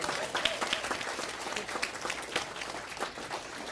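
Applause fills a school board meeting room, a dense steady patter of many hands clapping together, moderately loud and sustained from start to finish.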